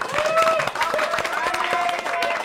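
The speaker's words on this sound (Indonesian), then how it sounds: "Boleh tepuk tangan." Audience clapping and cheering at a stand-up comedy show, a dense steady burst of applause filling the room for a couple of seconds, with a voice carrying over the crowd.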